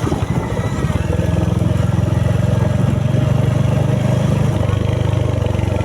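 A motorcycle engine runs steadily on a Sunday ride in Pakyong, East Sikkim, its close, even, throbbing putter continuing without a break, with a voice briefly talking over it.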